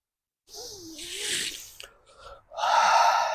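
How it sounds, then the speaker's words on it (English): Slow, deep breaths during a gentle morning yoga session, a soft drawn inhale followed after a pause by a fuller, breathy exhale, close and quiet with no talking. "Breathing deeply"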